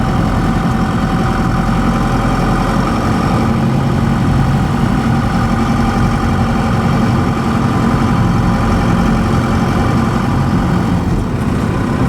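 Ford F150 fitted with a 4BT Cummins diesel engine, a loud, steady, low rumbling drone heard from inside the cab while driving, with no clear breaks or rev changes between gears.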